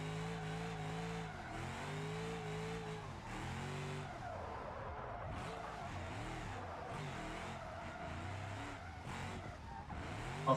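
Car tires squeal and skid continuously while drifting in BeamNG.Drive, with a steady engine drone and wavering screech that rises and falls through each slide, loud and unbroken with no talking.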